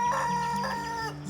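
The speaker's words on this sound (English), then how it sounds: "There's the chickens. Roosters are going off." Roosters crowing and chickens clucking on a farm in the early morning, a steady layered chorus of crowing close by with clucks beneath, no talk.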